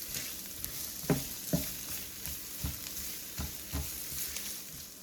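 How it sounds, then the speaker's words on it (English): Onion and garlic sauté in a pan for shrimp curry, a soft continuous sizzle broken by several distinct stirring scrapes and knocks at uneven intervals. "I'm going in with my onion and garlic. Saute for 1 minute"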